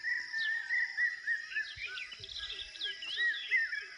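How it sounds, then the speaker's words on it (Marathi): Birds sing and chirp at dawn on a farm, with steady overlapping calls and whistles filling the background and a few faint low bumps underneath; no talk is heard. "पक्ष्यांचा आवाज."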